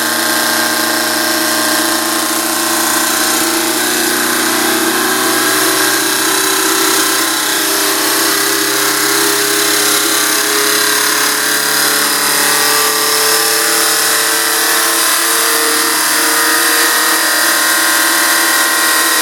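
Electric motor spinning a camshaft test rig at 40 Hz input, about 1200 RPM at the motor and 2400 RPM at the camshaft, giving a steady, loud mechanical hum with a constant whine and no talking.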